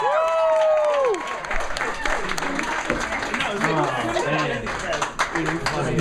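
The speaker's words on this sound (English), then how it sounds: "Give her a big round of applause." Audience applause and cheering for a comedian at a live show, a loud, dense wash of clapping close by, opened by a sustained shouted cry, with voices talking over it throughout.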